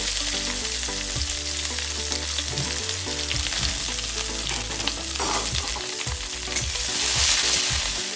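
Chopped onion hits a hot pan while home-cooking a country chicken curry, giving a loud, continuous sizzle with scraping stirs. The frying rises slightly near the end, with no voices.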